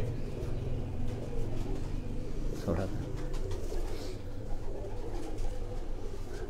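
Pigeons at a pigeon-flying competition coo in low, soft repeated calls under steady outdoor background noise, with people talking over them.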